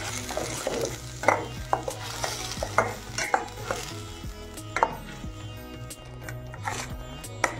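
A spoon stirs tomato and green chilli paste into dry chole masala in a pan, with repeated scraping knocks against the metal over a soft, steady sizzle close by.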